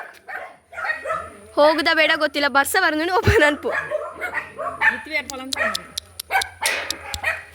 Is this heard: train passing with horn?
no